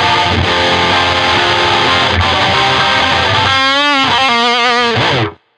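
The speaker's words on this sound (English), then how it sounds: "And patch C is the overdrive distortion." An electric guitar through an overdrive distortion pedal plays loud, thick distorted chords, with a wavering, bending phrase near the end before the sound stops abruptly.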